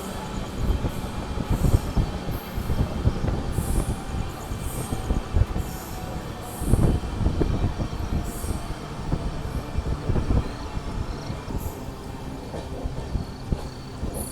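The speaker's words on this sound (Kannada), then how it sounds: "ನಮ್ಮ ಟ್ರೈನ್ ಯಾಕೋ ಸಿಗ್ನಲ್ ಇಲ್ಲದಕ್ಕೆ ಸ್ಲೋ ಆಯಿತು." Passenger train travelling by night past Hubballi Junction toward Bengaluru, heard from inside as a loud continuous rumble with rhythmic wheel clatter and occasional high squeals from the rails, while it slows for a signal; no speech.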